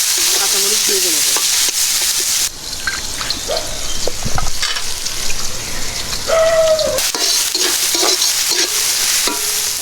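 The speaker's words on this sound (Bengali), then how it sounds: "কেটে রাখা পেঁয়াজ কুচি, রসুন কুচি আর মরিচ কুচি এখন আমরা দিয়ে দিচ্ছি তেলের মধ্যে।" Chopped onion, garlic and green chili sizzling in hot oil in a village kitchen, a loud steady hiss close by, broken by stirring scrapes and a few clinks.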